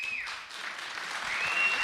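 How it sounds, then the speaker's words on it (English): A small group of faculty members clap together in a room, a steady close patter of applause that runs through the whole moment and swells slightly near the end. "So the 5 faculty that teach it are clapping."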